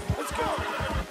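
Horse neighing in Red Dead Redemption 2, a single short whinny with fluttering pulses, moderately quiet and alone.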